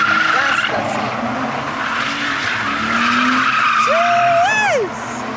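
A BMW E46 doing full-lock donuts at full throttle after a clutch kick, tires squealing and skidding continuously with a rising, wavering engine note, loud and close; a voice talks briefly early on.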